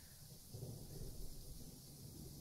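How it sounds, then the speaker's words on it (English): Steady rain and a low rolling rumble of thunder from the video game The Letter, faint and continuous with a swell in the middle. "The rain falling fast, steady sheets, creating shallow puddles on the dirt path"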